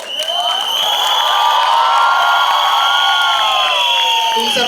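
A large crowd shouts, whoops and cheers loudly and continuously at a song launch event with Taapsee Pannu and Anurag Kashyap, with high-pitched voices rising above a dense roar.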